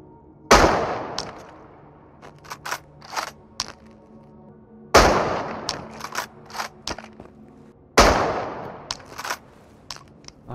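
Gunfire in the video game Into the Radius: three sharp single shots spaced a few seconds apart, each with a booming decay, between light clicks and handling sounds.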